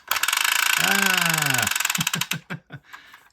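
A decades-old wind-up Haunted Mansion toy mechanism whirs and buzzes close up, a voice-like rising and falling tone sounds over it, then several short clicking bursts follow as it winds down.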